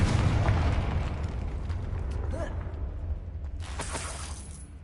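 Confringo blasting spell exploding in the video game Hogwarts Legacy: a loud burst with shattering debris at the start, decaying into a long rumbling tail, with a fainter crackle near the end.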